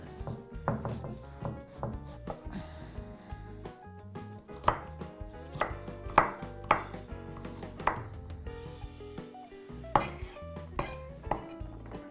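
A knife chopping peeled celeriac into cubes on a cutting board, crisp irregular thunks in quick bursts with brief pauses, close and fairly quiet.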